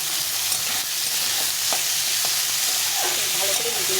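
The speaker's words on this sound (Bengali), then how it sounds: "ভালো করে ভেজে নিতে হবে আলু আর পেঁয়াজটাকে একসঙ্গে করে।" Chopped potatoes and onions fry together in a pan, giving a steady bright sizzle throughout with a few soft stirring scrapes, close and continuous.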